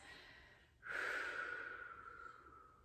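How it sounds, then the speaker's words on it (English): Deep breathing during a mobility exercise, a quiet inhale followed by a long, forceful, close exhale that slowly trails off, with no speech. "Take a few breaths."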